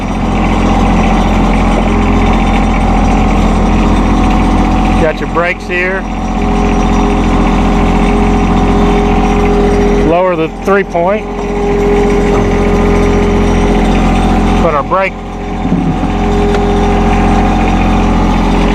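A 2016 John Deere 2025R compact tractor idles steadily and close by, its diesel drone continuous throughout while someone talks over it in several short bursts.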